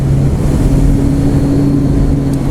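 A 2015 Triumph Street Triple motorcycle engine pulls hard under acceleration, its steady droning tone holding loud and close with no talk over it.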